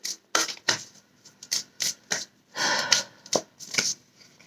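A deck of tarot cards is shuffled by hand up close, the riffles and slides coming in a quick series of crisp bursts, followed by a card being drawn, with no voices.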